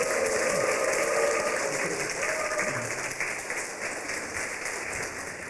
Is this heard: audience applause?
yes